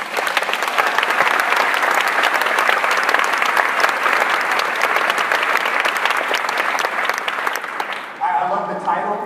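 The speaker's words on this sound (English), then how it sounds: "Give me a round of applause for people of color." A loud, dense round of applause from a conference audience fills the space for about eight seconds, then cuts off as a voice begins speaking.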